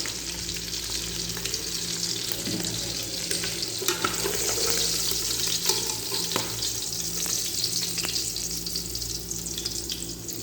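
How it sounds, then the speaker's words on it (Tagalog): Fish frying in hot oil, a loud, continuous crackling sizzle that stays close and steady throughout with a few sharper pops. "natin iprito ang ating sahog ng isda"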